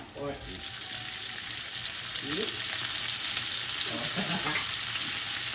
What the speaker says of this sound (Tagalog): Gigisa-gisa ko lang po at medyo dudurog-durugin na itong kamatis